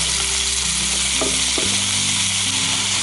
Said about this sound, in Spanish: Y los vamos a dejar a que se sellen por ambos lados.